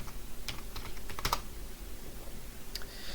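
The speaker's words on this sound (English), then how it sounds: "we're just gonna type Windows 11 Debloater" Fast keystrokes on a computer keyboard, a steady run of light clicks with a few sharper taps, close and alone with no voices.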